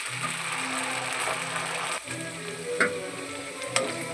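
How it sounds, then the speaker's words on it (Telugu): Green chillies fry in about four spoons of hot oil, giving a loud, close, steady sizzle with a faint rhythmic tonal hum underneath and a few brief crackles and clicks, without any voices. "పచ్చిమిరపకాయలు వేగుతున్నాయి"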